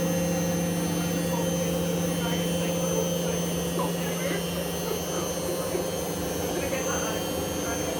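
A Hoover One T vacuum cleaner motor runs at high speed with a loud, steady whine and a strong constant hum that never lets up. Faint talking sits underneath.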